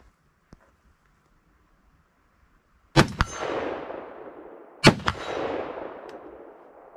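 Two loud rifle shots from a Foxtrot Mike .223 Wylde ring out at an outdoor range, about two seconds apart, each a sharp crack followed by a long, fading rumble of echo.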